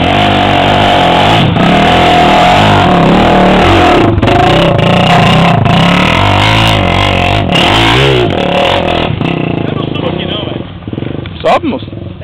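A vehicle engine roars and revs hard in first gear while climbing a steep hill, its pitch rising and falling as a tire slips and spins. The sound is loud and close, with voices talking over it throughout.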